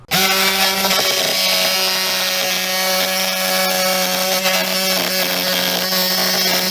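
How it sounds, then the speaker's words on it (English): A Ryobi cordless jigsaw whines loud and close as it cuts an opening for a Maxxair roof fan in a bus, its motor tone holding steady throughout with a rough sawing rasp beneath. "I have a Ryobi cordless jigsaw."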